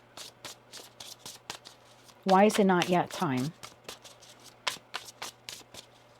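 Tarot cards being shuffled by hand: crisp, repeated riffling bursts run close and steady throughout, pausing briefly while a voice speaks in the middle.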